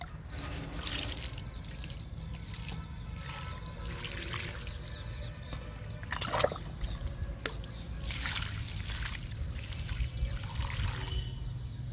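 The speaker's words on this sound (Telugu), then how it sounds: "మల్లె మొక్కకి వాటర్ ఇస్తున్నాను" Water pours and trickles quietly in an uneven stream onto a jasmine plant in a garden, with a few soft splashes over a low background hum.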